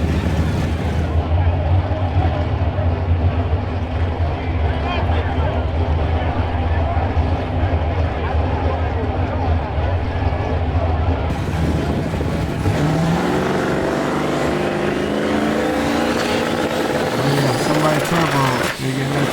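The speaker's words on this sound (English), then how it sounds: "They're getting that turbo spooled up." A turbocharged donk race car's engine drones loudly and steadily, then its pitch climbs sharply as the turbo spools up, with voices in the background.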